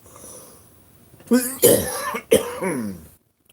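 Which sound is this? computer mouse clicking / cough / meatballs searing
cough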